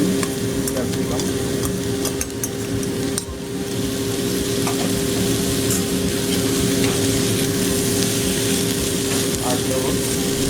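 Green capsicum stir-frying in a pan for restaurant-style chilli paneer, a loud, steady sizzle with scraping stirs throughout, close by and unbroken.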